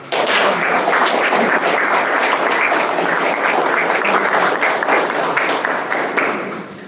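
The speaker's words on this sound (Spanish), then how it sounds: "de la mano de Marcos Montero, a quien les pido que reciban con un aplauso" An audience at a lecture event gives a loud, dense round of clapping that holds steady throughout before fading out at the very end.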